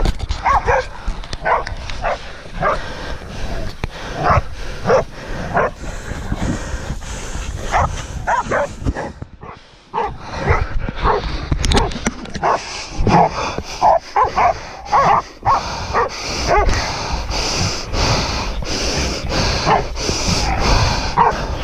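Pig-hunting dogs on the hunt in the Australian bush bark repeatedly in loud, irregular bursts with yips and whimpers, pausing briefly midway before the barking resumes just as intensely.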